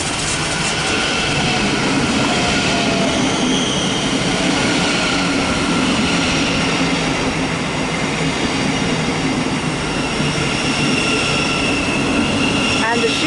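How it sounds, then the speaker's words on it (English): A Thameslink Class 700 electric train draws into Mill Hill Broadway station with a continuous loud rumble and rising traction whine, steady throughout and heard close with no talking. "another Thameslink service coming up from Sutton to St Albans"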